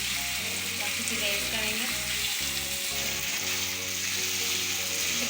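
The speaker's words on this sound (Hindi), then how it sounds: "हम इसे फ्राई कर रहे हैं प्याज के साथ चिकन को" Chicken and onions fry in a pan with a steady, loud sizzle throughout, joined by the scrape of stirring, while someone talks over the cooking.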